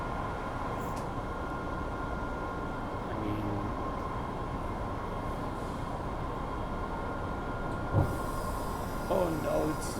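A subway train runs with a steady, loud rumble and rail noise throughout, with a brief clank near the end as it seems to begin slowing.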